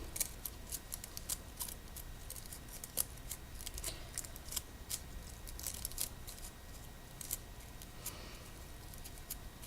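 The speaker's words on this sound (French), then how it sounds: "plus vous allez couper fin, plus vous aurez de petits pétales, forcément" Scissors snip repeatedly through paper to form flower petals, a rapid run of close, crisp clicks and cuts at an uneven rhythm over faint background noise.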